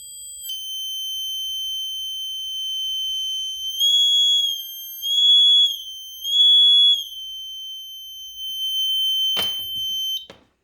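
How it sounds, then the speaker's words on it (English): Electronic warning tone from a small speaker added as an indicator reminder in a Renault Spider, a steady high-pitched continuous beep that shifts pitch slightly a few times, clear and alone, ending with a couple of clicks. "why I'm using the trim pot with the speaker to adjust the volume of the tone"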